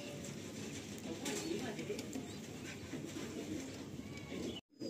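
Pigeons, a pair of male and female birds of a kind offered at a market sale, coo steadily at close range amid a dense, noisy background murmur, with a brief dropout near the end.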